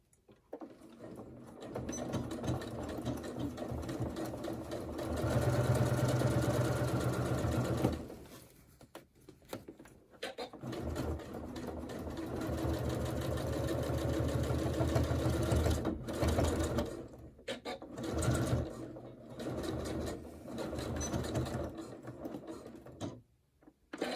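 A sewing machine runs steadily, stitching a half-inch seam along the side of a crossbody bag, with a rapid, even mechanical whir that pauses and resumes several times.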